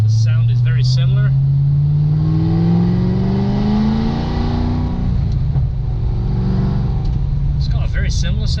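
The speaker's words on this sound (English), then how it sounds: "it's the American V8 sound" A Corvette C6 ZR1 V8 with a titanium exhaust revs up in one long, loud, deep rising sweep, then settles into a rumbling idle, with brief voices before and after.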